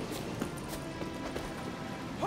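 Hooves clip-clop in a steady trotting rhythm over a dense, continuous background of ambient noise, moderately close. From the video game The Witcher 3: Wild Hunt.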